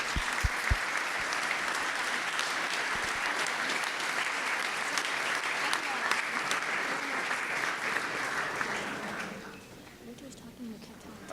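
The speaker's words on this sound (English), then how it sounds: "please, let's give him another round of applause." Sustained audience applause at a university CEO lecture, dense steady clapping from a large crowd that carries on for about nine seconds and then trails off to quieter room sound.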